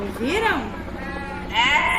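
A goat bleats close by in two wavering, rising-and-falling calls, with a voice briefly speaking over the sound.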